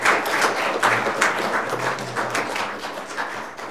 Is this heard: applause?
yes